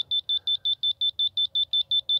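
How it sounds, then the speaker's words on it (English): A DeWalt laser level receiver gives a rapid, steady series of high-pitched electronic beeps, about six per second, clear and close with nothing else heard. "Just beeps fast if it needs to go down."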